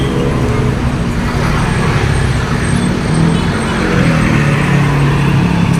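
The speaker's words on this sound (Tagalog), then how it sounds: "Traffic situation" Dense, loud street traffic in Cebu, Philippines, with car and bus engines rumbling and droning continuously close by, forming an unbroken roadway roar with no speech.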